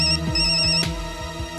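A phone ringtone trills loudly and close by, a bright repeating electronic melody with short pulses sounding on its own with no talk.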